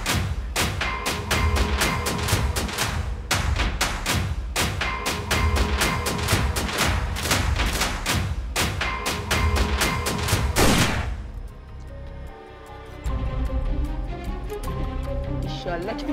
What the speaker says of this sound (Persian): شلیک به سمت آقای حسین مهری اتفاق افتاد